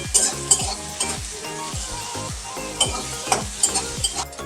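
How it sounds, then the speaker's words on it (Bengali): Thinly sliced onions sizzle steadily in a hot pan while being fried red for a fish curry, with a rhythmic scraping of a spatula stirring them throughout. "প্রথমে আমি পেঁয়াজটা লাল লাল করে ভেজে নিচ্ছি"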